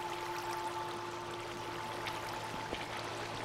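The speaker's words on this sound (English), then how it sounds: "I need to get rid of this water." Flowing water in Minecraft, a steady, even rushing stream with a faint trickling texture, continuous and moderately loud throughout with no talk.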